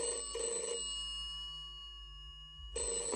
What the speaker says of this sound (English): Bill rang his office at 9 o'clock. His boss, Mr. Thompson,